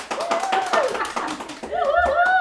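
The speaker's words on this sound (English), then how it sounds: "Give her applause." A few hands clap rhythmically in a living-room livestream setting while a voice whoops and sings over them, the claps close and distinct beneath the vocalizing.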